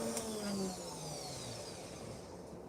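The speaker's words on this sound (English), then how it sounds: "That is the sound of a helicopter." A steady mechanical drone with a low throbbing hum, loud at first and easing slightly, like an aircraft rotor passing nearby with no voices.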